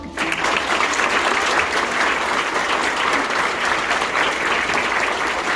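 Delegates at the opening of a national financial industry labour union branch convention break into loud, dense applause that starts abruptly and holds steady throughout, with no speech over it.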